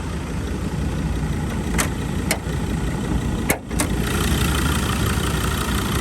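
A 2021 Ford Ranger FX4 double-cab ute with its 3.2 litre five-cylinder diesel idles steadily and close by, a low, even rumble with a few brief clicks and a short dip near the middle, no voices.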